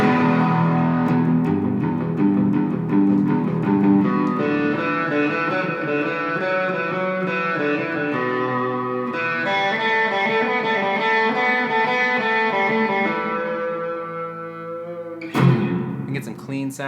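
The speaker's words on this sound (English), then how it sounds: "I can get some more traditional Fender Strat style sounds." Electric guitar with a Fender Stratocaster-style tone, strummed and picked bright and slightly overdriven, chords ringing continuously before a brief sharp noise near the end.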